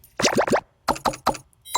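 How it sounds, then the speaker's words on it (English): Two quick bursts of three bright, bouncy blips each, with a short gap between, like a retro game pickup sound, then one more starting. "We got blip, blip, blip for the keys."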